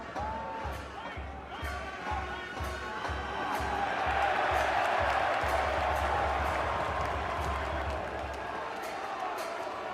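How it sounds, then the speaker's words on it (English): A stadium crowd cheers for NC State during an NCAA tournament men's soccer match against Washington, a broad roar that swells in the middle and stays loud, with commentators talking over it. "you heard the big NC State cheer just then"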